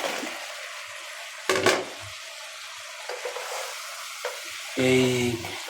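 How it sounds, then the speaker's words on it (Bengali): Cut eggplant tipped into hot spice paste cooking for a dried fish curry, giving a brief stirring clatter then a bright, loud sizzling burst near the end, close up with quiet kitchen background. "এখন বেগুনগুলা দিয়ে দিই"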